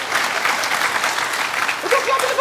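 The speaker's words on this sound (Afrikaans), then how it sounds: "Hoekom klap jy vir man?" Audience applause at a stand-up comedy show, dense steady clapping from a crowd filling the whole stretch, with a voice speaking over it near the end.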